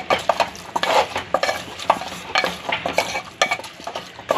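Carrots are stirred in a cooking pot while making daliya khichdi, as a spoon scrapes and knocks against the metal in quick, irregular strokes over a soft sizzle, close and busy throughout.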